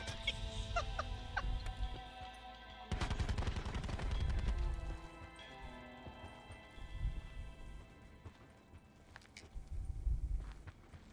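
Gunfire from a weapon in the battle royale game Blackout, with rapid automatic bursts in the middle and scattered shots across a busy game soundscape.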